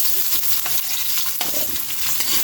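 Ginger, garlic and onion sauté in hot oil in a pan for a mussel tinola soup. The sizzle is close and crackly, broken by quick scraping stirs over a couple of seconds, with no voice.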